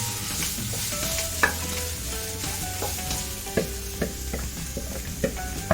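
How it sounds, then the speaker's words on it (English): Five sliced onions fry in a pan over a low flame, giving a steady close sizzle with occasional clinks from a stirring spoon and no voices. "Now let's add the onions, the sliced onions."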